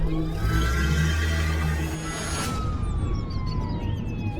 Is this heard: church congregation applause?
no